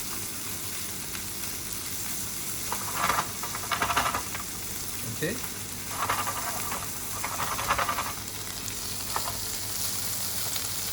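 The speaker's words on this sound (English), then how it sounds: "So frying out of the potatoes first helps the potatoes to actually cook faster" Potatoes sizzle and fry in a pan with a steady soft crackle, and a few louder bursts come as they are tossed. A voice briefly speaks once.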